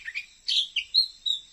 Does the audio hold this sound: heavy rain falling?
no